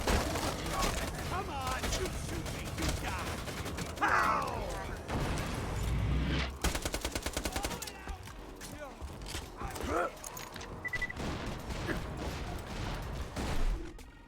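Gunfire in the video game Borderlands 2, bursts of rapid shots and mechanical clatter in the middle, mixed with game sound effects and someone talking over much of it.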